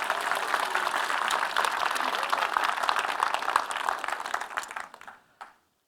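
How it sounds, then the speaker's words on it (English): Conference audience applause, a dense steady round of clapping from a crowd that tapers off and stops near the end. "another massive round of applause"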